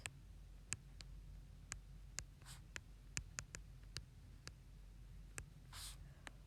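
Pen or pencil writing out an answer to a math word problem, a series of crisp taps and short scratchy strokes in an irregular rhythm, close and quiet over a low hum, with no talking.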